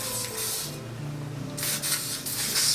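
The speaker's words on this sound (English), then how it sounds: "spray just right on top of my natural hair a little bit" OGX Argan Oil finishing hair spray hisses out in short aerosol bursts over natural kinky coarse hair, two or three close, fairly loud sprays with brief pauses between.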